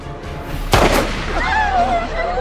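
One loud, close gunshot rings out in a tense standoff where a man holds a hunting knife to a boy's throat, a sharp crack with a short decaying tail, followed by a strained voice crying out.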